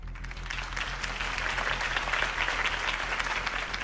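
A crowd applauds Harvey Dent's campaign speech in Batman: The Telltale Series, a dense, steady wash of many hands clapping at a moderate distance, continuous throughout with a low hum beneath.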